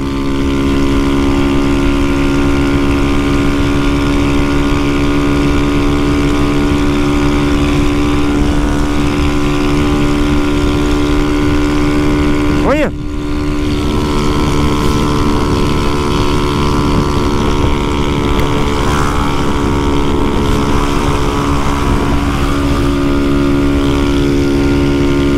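Honda Fan 150 Mix motorcycle engine and exhaust droning steadily while riding on a road trip, the exhaust in poor condition; a continuous near hum with wind buffeting, briefly dipping midway, no talk.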